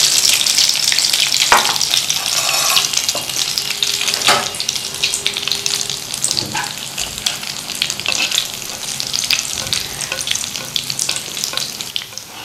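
A snack fries in hot oil over a slow flame for a lunch-box recipe, giving a steady, dense sizzle throughout with occasional stirring clinks and sharper crackles rising from the pan.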